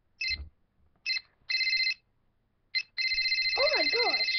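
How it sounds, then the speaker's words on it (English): A telephone rings in short electronic tone bursts that stop and restart, then settle into a longer continuous ring with a warbling, wavering chirp at the end. The ringing is fairly close and loud, and there is no speech. "Stupid phone. Ring, stupid phone."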